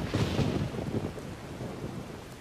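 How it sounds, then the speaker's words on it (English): Thunder rumbles over steady rain in the Skyrim video game, a loud low roll fading into a dense patter of falling rain with no voices. "Well, this rain killed us."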